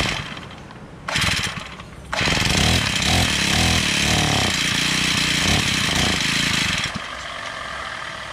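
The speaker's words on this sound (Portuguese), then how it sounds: "A máquina tá pegando, mas não dispara." A Honda GX35 brushcutter with a faulty carburetor runs nearby with a loud, buzzing engine note. It climbs after a brief surge, holds a rough, wavering pitch, then drops back but does not settle to an idle.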